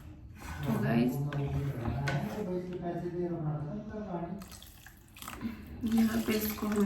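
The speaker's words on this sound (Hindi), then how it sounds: "यहाँ पे इसको हमने पानी को डाल दिया" Water pours and splashes into a pot while grated carrots are prepared for carrot halwa, a steady running-water rush throughout, with a short pause near the middle.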